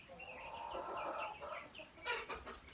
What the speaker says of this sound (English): I have my laying hens.